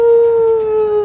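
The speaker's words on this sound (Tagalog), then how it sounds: "Ang laking aso!" A big dog lets out one loud, close, sustained howl on a steady pitch that slowly sags, heard alone.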